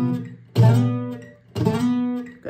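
A requinto guitar plays notes from the sixth, fifth and fourth strings that slide together across the strings: two strummed, ringing attacks about a second apart, each fading slowly, close and alone.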